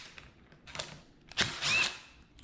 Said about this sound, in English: Takes off these bolts like it's nothing.